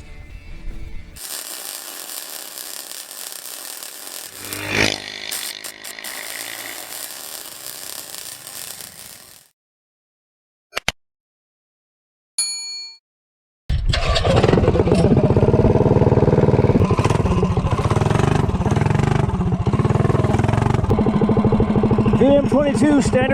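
A Predator 212 small engine with a VM22 carburetor buzzes loudly and steadily, cuts out briefly, then revs hard and rises as it accelerates from 0 to 30, close and dominant.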